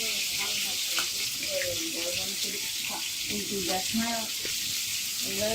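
A piece of kalbaus fish fries in oil with a continuous close hiss and bubbling, mixed with splashy, water-like crackle and a few brief clatters, and no talking.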